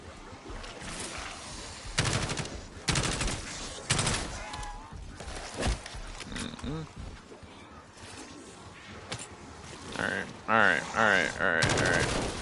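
Gunfire in a zombies video game: rapid bursts and single gunshots cracking out in clusters, mixed with game noises and creature sounds, while a player talks over the action.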